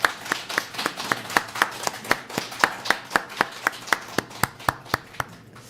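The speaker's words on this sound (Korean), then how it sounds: "우리 환영의 박수를 한번 하도록 하겠습니다." A church congregation claps to welcome visitors, with sharp, evenly spaced claps in a quick steady rhythm, moderately close and with no talk over them.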